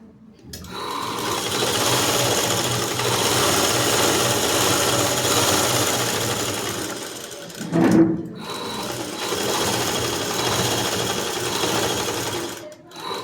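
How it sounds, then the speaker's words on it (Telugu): A tailoring sewing machine double-stitches the side seams of a dress top, a steady fast close rattle that runs for several seconds, stops briefly, then resumes. "దీనిపైన డబల్ కుట్టు వేయాలి."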